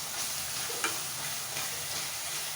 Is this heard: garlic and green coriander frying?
yes